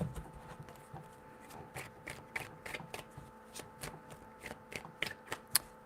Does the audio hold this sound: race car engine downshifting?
no